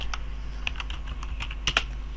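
Fingers type on a computer keyboard, with a quick irregular run of close, crisp key clicks and a couple of sharper taps near the end, over a low steady hum and no talking.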